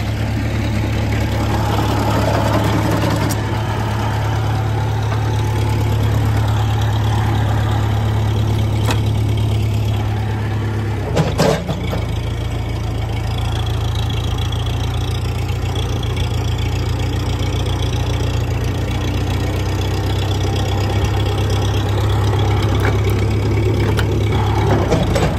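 A vehicle engine idles in fourth gear at a woodland logging site, a steady low rumble that stays loud and close throughout, broken by a short clatter around the middle.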